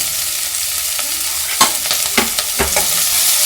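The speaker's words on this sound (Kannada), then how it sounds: "ಟೊಮೆಟೊ ಹಾಕ್ಕೊಳ್ತೀನಿ ಟೊಮೆಟೊನು ಚೆನ್ನಾಗಿ ಫ್ರೈ ಮಾಡ್ಕೊಳ್ಳೋಣ" Tomatoes frying with onion and masala for a mushroom sambar, stirred in a pan: a steady bright sizzle with a cluster of scraping spoon strokes in the middle, close and loud, no voices.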